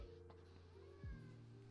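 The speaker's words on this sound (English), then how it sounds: "Kitten?" A single short kitten meow, faint and close, rising then falling over a quiet background.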